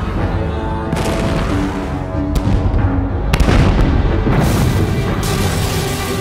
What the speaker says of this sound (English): An enormous gun, the Swamp Angel, lobbed 200-pound shells into the streets.